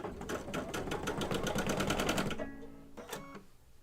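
Embroidery sewing machine stitching in a rapid, steady needle rhythm for about two and a half seconds, then stopping, followed by a few faint clicks and mechanical settling noises, close up with no talking.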